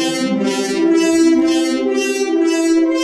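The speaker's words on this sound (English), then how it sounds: "We were talking about a snare drum, and now he's playing this weird like horn" A snare drum sample reshaped into a strange horn-like synth tone: a steady, droning brassy note with a rhythmic whooshing swell pulsing roughly twice a second, moderately loud and alone.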